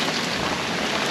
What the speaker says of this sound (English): feels like it wants to hail. Right. Big rain.